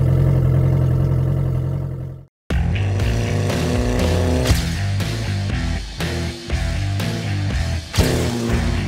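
A car engine running with no exhaust fitted, producing a loud, raw mechanical roar with revving swells, cut by a brief silent gap early on, then continuing steadily with several sharp throttle blips.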